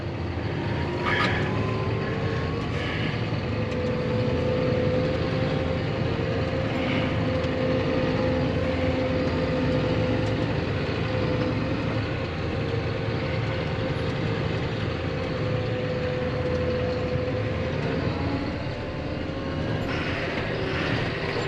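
A tractor engine with about 6,800 hours on it rumbles steadily at close range with a low, constant drone that barely changes over the whole stretch.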